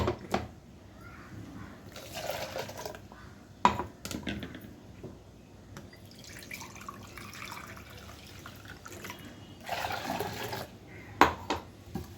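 Water splashes and trickles in short bursts while buttermilk is mixed, with a couple of sharp clinks, close by and fairly quiet.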